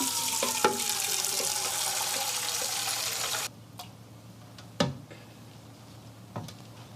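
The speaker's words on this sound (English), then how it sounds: "Fill it with water." Tap water runs steadily into a glass, a broad rushing stream that cuts off after a few seconds, followed by a couple of faint clinks in a quiet room.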